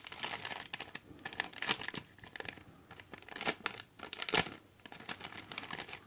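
A small gift sachet being unwrapped from a parcel, its paper or plastic crinkling and tearing in irregular close bursts, with a few louder rustles and no talking.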